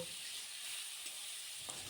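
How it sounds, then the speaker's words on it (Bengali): Lentils fry in oil in a pan with a faint, steady hiss of sizzling, quiet and brief, ending in a small clack of a utensil, with no speech. "এখন আমি ডালটা কিছুক্ষণ ভালোভাবে ভেজে নিব"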